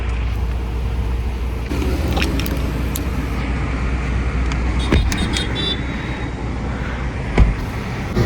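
A 2026 Renault Duster SUV on a test drive, with a steady low engine and road hum heard from inside the cabin, a few light clicks, and a soft thump near the end.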